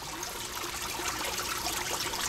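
Water trickles steadily into a small aquaponics tank as the level rises before the siphon starts, a close, continuous splashing hiss at moderate loudness with no talking.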